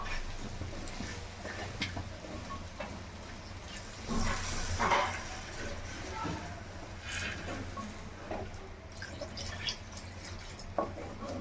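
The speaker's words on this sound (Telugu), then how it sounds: "ఇప్పుడు కొంచెం వాటర్ యాడ్ చేద్దాం చికెన్లో" Water poured into spiced chicken frying in a pan for a chicken and cucumber curry gives a brief hissing sizzle near the middle, over steady low cooking noise.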